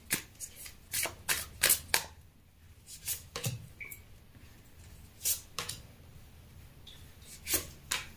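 Tarot cards are shuffled and drawn by hand, producing quick, crisp riffling bursts and softer sliding rubs, close and fairly quiet, in an irregular rhythm.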